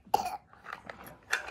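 A sick child with a sore throat gives a few short, harsh coughs close to the microphone, spaced out over a second and a half in a quiet room.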